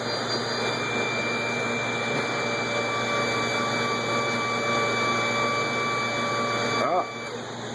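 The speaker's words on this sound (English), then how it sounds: "Second pump." Pump running during a system test, a steady droning hum with constant tones that drops off suddenly near the end.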